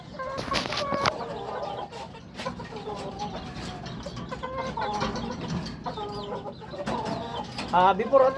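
Chickens, including five-month-old birds, cluck and squawk at feeding time on a farm, a busy cluster of calls across the whole stretch, moderately close, with some faint voices mixed in.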